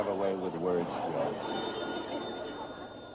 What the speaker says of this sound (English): The phone rang on our rented desk.